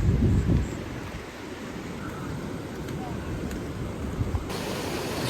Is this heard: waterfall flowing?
yes